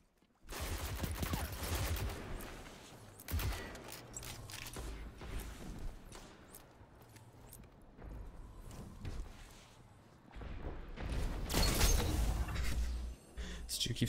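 Automatic rifle fire in Destiny 2, repeated bursts of rapid shots with mechanical clatter and shattering hits, moderately quiet overall, with a player talking in between.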